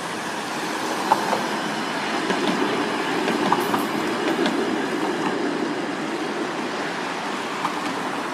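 A tram rolls past at moderate distance along the Toronto harbourfront at night, a steady rumble of wheels on rails with faint clacks and brief squeals, no voices.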